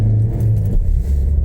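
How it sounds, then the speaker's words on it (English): A car accelerates along the M80 motorway near Cumbernauld, Scotland, with a steady, loud low engine rumble and road noise throughout and no voices. "Let's accelerate."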